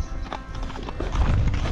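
Horse hooves clip-clopping steadily on a hard path in Baisaran Valley, Pahalgam, Kashmir, close by, with a brief whinny-like sound and faint background noise.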